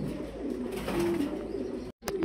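A fancy female pigeon gives low, throaty coos close by in a steady rolling run, then cuts off briefly and starts again, with no other sounds competing.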